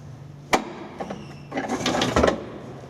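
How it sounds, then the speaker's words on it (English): Ash pan being closed on a Sentinel steam boiler: a sharp metallic clank, then scraping and rattling metal movements with a few knocks, close by and short. "I'll just close it and you can see how it actually"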